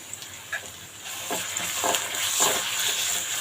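Onions softened in a pan with half a spoon of ginger-garlic paste stirred in for a coconut and chana dal curry, giving a steady close sizzle with soft scraping strokes of the spoon.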